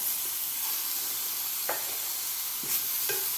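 Thick slices of tomato sauté in a pan with roasted onion and coconut for Kolhapuri misal, producing a soft steady sizzle with a few light spatula scrapes and clinks.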